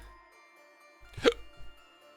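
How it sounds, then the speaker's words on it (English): A single short hiccup rises out of near silence, close and fairly quiet, followed by a faint small breathy after-sound. "Getting hiccups in the stream is the worst"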